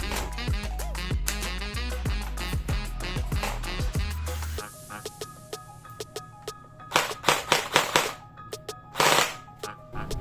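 A gel blaster's trigger is pulled and its motor and gearbox run in a fast, loud mechanical burst of repeated clacks for about four seconds, then stop, followed by a few separate clicks and rattles close by.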